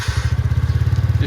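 A TVS NTORQ 125 BS6 scooter with a starting problem cranks on its self-starter, a loud, close, rapid chugging thump that repeats evenly for over a second, with no voices.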